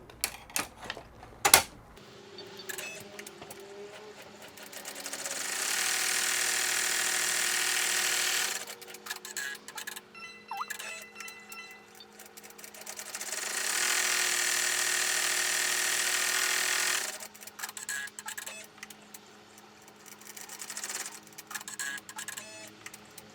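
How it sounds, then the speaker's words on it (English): An embroidery machine stitches the flap and strap pieces of an in-the-hoop tuck envelope card holder, its rapid mechanical needle chatter running in two long steady bursts with quieter clicking pauses between, no voices. "the next thing we're going to do is stitch out our flap, and we're stitching out our little strap piece"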